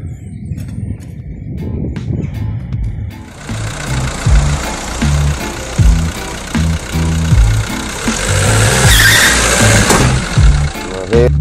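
A BMW engine with a bad noise, a broken engine mount and an oil leak runs close by, first with light clicking, then revving into a loud, rough, uneven drone with rhythmic knocking pulses throughout.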